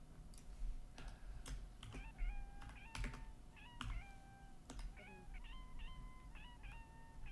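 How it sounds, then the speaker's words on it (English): A pet cat gives a string of short, chirpy meows in quick succession over a faint room hum, with occasional sharp taps and clicks like typing on a keyboard. "Does he make that meow sound when he wants attention?"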